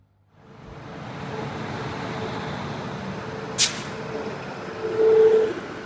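A steady low rumble of a train moving along the tracks near Erode, Tamil Nadu, with a brief sharp hiss midway and a short tonal squeal near the end.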